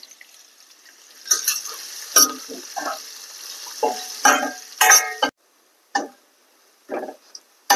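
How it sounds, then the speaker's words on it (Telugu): Chopped onion pieces frying in a pan for a white chana biryani, with intermittent sizzling bursts and stirring scrapes close by, broken by short pauses of near silence. "ఇప్పుడు దీనిలోకి మనం తరిగి పెట్టుకున్న ఉల్లిపాయ ముక్కలు వేసేసుకోవాలి. వీటిని ఇప్పుడు మనం ఎర్రగా వేయించుకోవాలన్నమాట."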